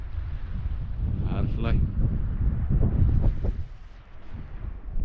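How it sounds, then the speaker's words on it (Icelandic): Strong wind buffeting a microphone outdoors in a forest after a run, a heavy low rumble that rises and falls throughout while a voice speaks briefly over it. "Ennþá smá rok."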